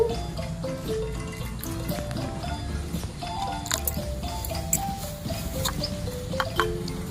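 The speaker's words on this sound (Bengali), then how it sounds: "এবার আমি এর মধ্যে একটু জল দিয়ে ঢাকা দিয়ে নেবো।" Water is poured into a cooking pot on the stove, a soft, continuous trickle with small drips and splashes amid quiet kitchen clatter.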